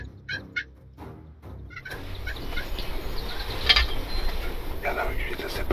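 In the Appalachian woods during a spring bow hunt, a wild turkey gobbles in two quick bursts at a distance, followed by a steady rustling, hissing outdoor background with scattered faint chirps.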